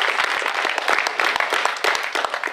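Crowd applause at a family wrestling show in Chilhowee Park, East Tennessee, with dense, steady clapping throughout and sharp individual claps standing out.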